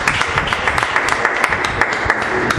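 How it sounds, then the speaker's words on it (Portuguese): A church congregation applauding at the close of a service, with many hands clapping in a dense, lively patter that stays loud and even throughout. "E que as palmas louvem a Deus"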